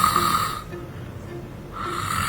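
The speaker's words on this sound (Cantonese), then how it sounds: "打鼻鼾，" A sleeping person snores in two heavy, rasping breaths, one at the start and one at the end, with a quieter intake between them, close and fairly loud.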